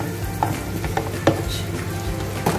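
Minced chicken frying in a pan with sautéed onion and garlic, a steady close sizzle with a few stirring scrapes and light utensil taps, no talking.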